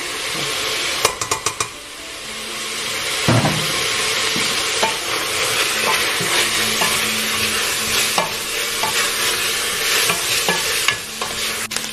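Syrian madfouna ingredients frying in a pan, a steady close sizzle with a quick run of utensil clinks near the start and occasional stirring scrapes throughout.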